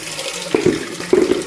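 Water splashes into a container as freshly harvested vegetable shoots are put to soak, with a steady running gush and a couple of sharper sloshes close by.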